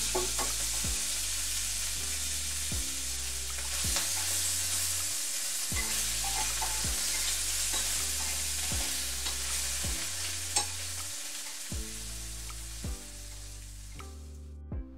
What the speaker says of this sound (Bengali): চাপা শুটকি একটু ভেজে নিব আমি